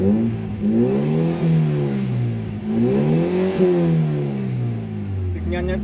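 An overhauled Toyota Vios engine idles at 700 RPM, giving a loud, steady mid-pitched hum with slight rises and falls as someone talks over it.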